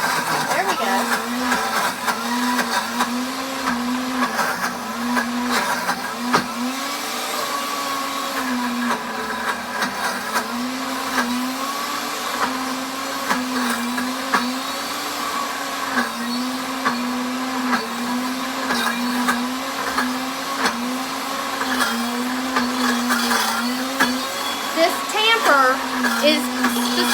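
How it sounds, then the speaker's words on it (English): A food processor grinds peanuts into peanut butter with a constant loud motor drone whose pitch wobbles slightly as the load shifts, close by, with a voice talking over it at moments. "it's kind of loud because we're grinding peanuts"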